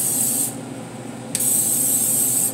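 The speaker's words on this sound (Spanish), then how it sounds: "Le vamos a poner un poquito spray de aceite." Cooking oil sprayed from a can onto bread dough for a rosca de reyes: two close, steady hissing bursts, the first stopping partway through and the second starting after a short pause and running to the end, with no voices.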